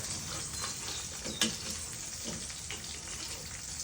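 Sunny side up eggs frying in a pan make a quiet, steady sizzle with a few sharp pops and light clatter scattered through nearly four seconds, with no one talking.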